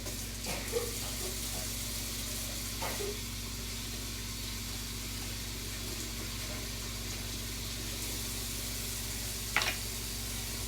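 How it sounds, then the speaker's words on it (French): Running water from a kitchen tap while hands are washed before cooking, a steady close hiss of flow throughout with a few faint splashes and knocks, no talk. "Je vais me laver les mains pour commencer."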